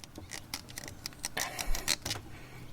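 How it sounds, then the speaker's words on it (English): Faint, quiet creaking and scraping clicks as a rubber hose is worked loose from a plastic fitting on a Honda Civic Type R, a few irregular squeaky bursts close by. "That's the sound of this hose coming off of this plastic"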